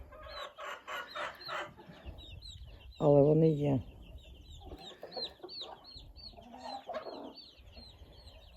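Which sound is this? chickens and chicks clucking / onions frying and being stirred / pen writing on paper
chickens and chicks clucking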